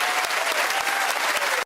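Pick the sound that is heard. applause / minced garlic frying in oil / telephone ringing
applause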